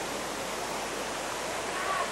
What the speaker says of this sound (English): I'm just going to try being in the waterfall.